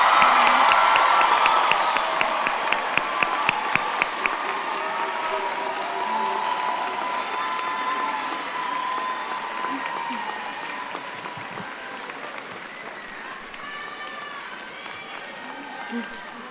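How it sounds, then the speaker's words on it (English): Crowd applause and cheering at a class of 2025 graduation celebration, loud clapping with whoops and shouts at first, then a long, gradually fading round of claps with scattered voices. "It is now time for one huge round of applause."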